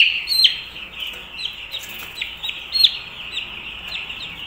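Six-day-old broiler chicks cheep in a steady high chorus of thin peeps as they are weighed on a scale, with a few sharper chirps standing out near the start and middle, no voices.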